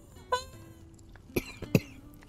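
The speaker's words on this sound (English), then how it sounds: "I'm coughing now and it's my own fault." A few soft, short coughs spaced over two seconds, faint and close, with a quiet hum in the background.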